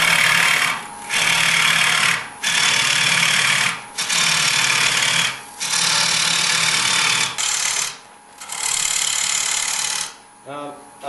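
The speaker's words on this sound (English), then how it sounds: "I can just stand in one spot and plunge the tool straight in" A carbide-insert rougher woodturning tool plunges straight into a spinning wooden bowl on a lathe, giving a loud, harsh broadband scraping hiss in several bursts separated by short pauses, with the lathe running underneath.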